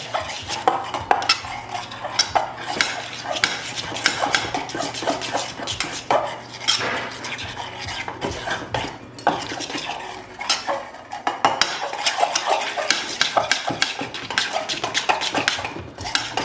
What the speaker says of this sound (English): Okay, so I'm just going to mix this up.